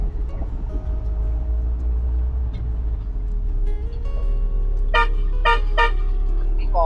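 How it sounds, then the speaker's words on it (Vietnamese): Three short, sharp car horn honks sound in quick succession on a busy road, over a steady low engine rumble. "Đi còi bởi vì cái đoạn này là rất là đông xe."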